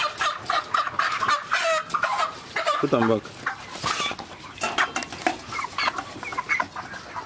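Many Ross 308 broiler chickens, about 42 days old, cluck and squawk busily close by, a dense flock chorus with a person speaking briefly amid the noise.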